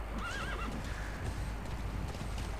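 D-Horse, a horse in Metal Gear Solid 5, gives a loud wavering whinny near the start, then steady hoofbeats as it gallops, with no speech.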